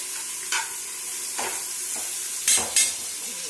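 Chicken biryani masala is sautéed in a pan. A steady sizzle runs underneath, and four loud spatula scrapes come at uneven intervals, two of them close together near the end. No one speaks.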